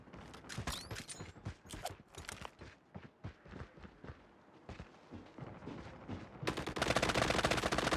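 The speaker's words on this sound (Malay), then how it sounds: "Ada tembak di belakang." Rapid bursts of automatic gunfire and single shots crackle through a multiplayer shooter match, uneven and fairly close, ending in a dense, loud roar of continuous noise.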